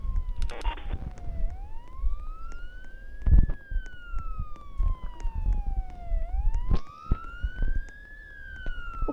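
A wailing police car siren from a video game rises and falls in slow, smooth sweeps throughout, loud and close, over thumping game sounds and brief clicks.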